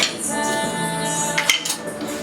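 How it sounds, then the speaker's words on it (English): Potatoes mashed in a pot with a masher, the metal tool clattering and scraping against the pan in a quick, busy run of clinks and scrapes, up close with no talking. "I'm going to mash my mashed potatoes with this, and then I'm going to mix it with my spoon"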